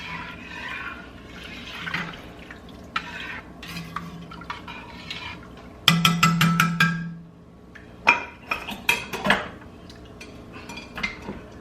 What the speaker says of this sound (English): right now I'm just kind of scraping down the sides of the pot, making sure everything's kind of blended well